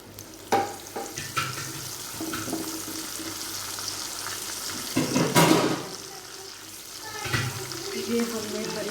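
Spices, red chili powder and crushed green chili frying in oil in a pan for aloo palak, a steady low sizzle with intermittent clinks and stirring scrapes, a louder burst midway, close by with no talk.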